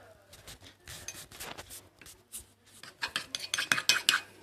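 Cornstarch slime stirred in a pot, close wet scraping and rasping strokes that grow louder and quicker toward the end.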